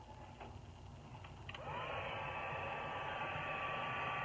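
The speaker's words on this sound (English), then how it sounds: "I'm going to take a heat tool and I'm going to heat set this." Handheld heat tool switched on to heat-set vinyl lettering onto a canvas, a brief click and then a steady, close whooshing fan roar with a rising whine that settles into a constant hum.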